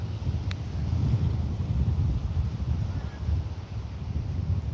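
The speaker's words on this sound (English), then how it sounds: "I said to you, it's windy. It's super windy." Strong beach wind buffets the microphone in a constant low roar, gusting unevenly with nothing else clearly audible.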